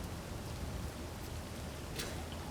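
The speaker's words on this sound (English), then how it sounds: "we're gonna make it stop freaking raining" Steady rain in the video game Space Engineers, a soft continuous broadband hiss with faint patters and a brief brighter splash near the end, moderately quiet and alone.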